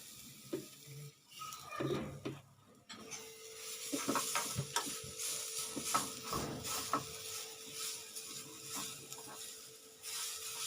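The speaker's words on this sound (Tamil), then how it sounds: "இதே இதில் நம்ம தேங்காயும் கொஞ்சம் வதக்கலாம்" Coconut is sautéed and stirred in a pan, with irregular scraping and clinking of the utensil against the pan over a light sizzle that settles into a steady hum, fairly quiet and close.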